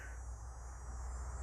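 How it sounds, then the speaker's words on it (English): Cicadas sing outdoors on a wooded college campus, a faint, steady, high buzzing drone with no breaks. "cicadas singing away"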